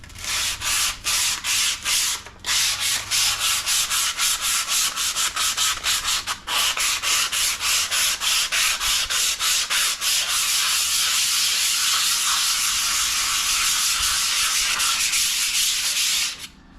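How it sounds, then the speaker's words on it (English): Rapid, rhythmic scraping of 150-grit sandpaper rubbed back and forth over the metal surface of a Blackstone flat top griddle, loud and close, with brief pauses between strokes. "So I've got me some 150 grit paper, and I'm gonna get after it."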